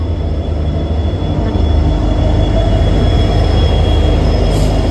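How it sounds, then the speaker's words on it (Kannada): A train pulls into a station platform, rumbling loudly and steadily nearby, a deep low roar with a high metallic squeal from the wheels, no voices. "ಈಗ ಇಲ್ಲಿ ಟ್ರೈನ್ ಬರುತ್ತೆ ಪ್ಲ್ಯಾಟ್ಫಾರ್ಮಲ್ಲಿ"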